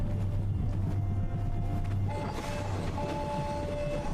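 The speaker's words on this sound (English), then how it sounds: "Train's leaving." A video game train pulls out of a station with a steady rumble and low mechanical hum under a constant background.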